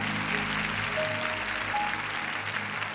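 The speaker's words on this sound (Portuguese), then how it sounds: "Você pode aplaudir ao Senhor?" A church congregation applauds during a service, producing an even, sustained wash of clapping over a low background hum, with no clear speech.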